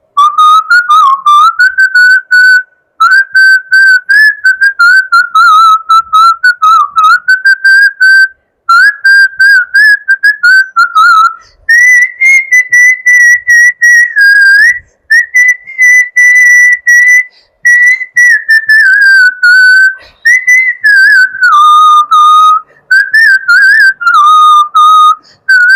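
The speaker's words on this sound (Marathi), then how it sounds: "मी शिट्टीतून गाणं म्हणून दाखवणार, ते गाणं कुठलं आहे हे आम्हाला कळवायला विसरू नका" A person whistles a song solo, a clear, loud, close melody of sustained pitched notes phrased in short runs with brief pauses for breath.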